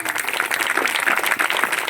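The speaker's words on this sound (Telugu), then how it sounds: "గట్టిగా క్లాప్స్ కొడదాం" Loud, steady clapping from an audience at a Christian church skit program, honoring pastors, dense and continuous for the whole stretch with no voices over it.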